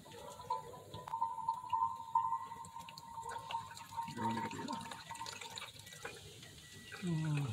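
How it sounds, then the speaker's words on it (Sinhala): Water trickles into a car radiator during a coolant flush, a faint, thin pouring and dripping sound under people talking nearby. "ඉතින් වතුර භාගයක් පුරවන්නේ නේ."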